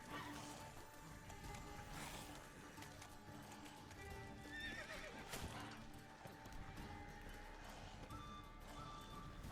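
Roach, the horse in The Witcher 3 video game, gallops with steady clip-clop hoofbeats and snorts amid busy game sounds and music. A quiet voice is faintly audible beneath.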